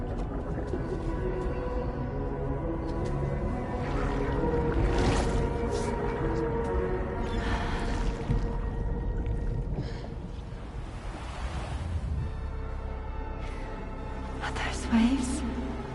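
Rolling beach waves in the video game Death Stranding 2, a steady low wash of surf with swelling and receding surges, fairly close and continuous, with no talk over it.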